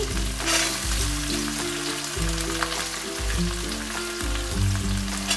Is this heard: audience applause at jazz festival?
no